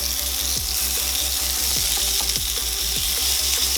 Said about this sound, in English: Asparagus in. I'm gonna give the pan a little shake to kind of try to even it all out.